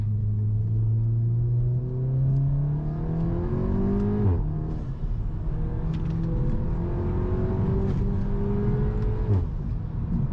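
An all-wheel drive car accelerates hard through a string of corners, its engine note climbing and falling in repeated surges as it rounds each bend, loud and steady throughout with no talking.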